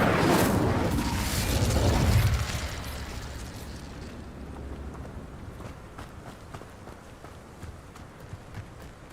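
A fire spell blasts out in the Hogwarts Legacy video game, a loud roaring burst for about two seconds that then fades into a lower, crackling rumble with scattered small hits.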